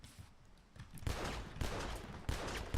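Sustained bursts of video game gunfire, dense and continuous with rapid shots that swell in intensity over a few seconds, with no one speaking.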